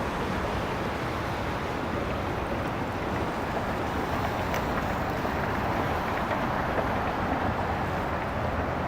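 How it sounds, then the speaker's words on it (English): A ferry moves across the water off Manhattan at sunrise, a steady, broad engine rumble blended with wash and wind, continuous and fairly loud, with no talking. "then that ferry's coming right behind him"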